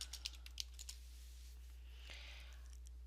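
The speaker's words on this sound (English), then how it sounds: "I am going to just type in double sink here" Keys clatter on a computer keyboard while a name is typed into home design software: a short burst of faint, close keystrokes at the start, then only a quiet steady hum.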